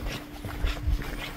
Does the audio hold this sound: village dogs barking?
yes